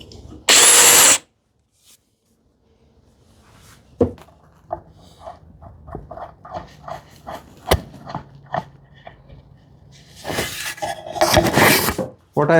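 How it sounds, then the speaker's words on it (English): A countersink is drilled into thick wood for a TV unit: a loud short burst of drilling, scattered taps and clicks of handling, then a second longer grinding burst near the end. "We'll countersink from the other side, because this is way too thick."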